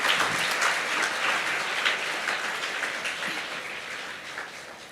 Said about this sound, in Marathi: साहेबांचं जरा टाळ्या वाजून सगळेजण स्वागत करावं